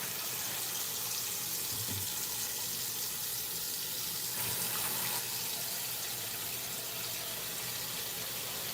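Cold water runs steadily from a kitchen tap while catfish is rinsed under it, a continuous close hiss of flow with a brief splash change midway and no talking.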